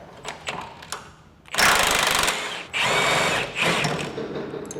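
Power tool spinning off lug nuts on a 1990-98 Subaru Sambar, several loud rattling bursts of the impact gun with short pauses between, preceded by a few quieter clanks.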